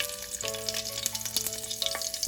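Bay leaf, cinnamon and a green chili fry in hot oil for one-pot dal rice, producing a close, crackling sizzle with sharp pops and a steady tonal hum beneath.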